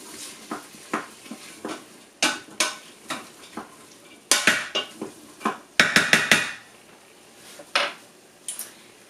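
A spoon stirs chicken gizzards in a metal pot, giving irregular clanks and scrapes against the sides over a soft sizzle, close and fairly loud, with no speech.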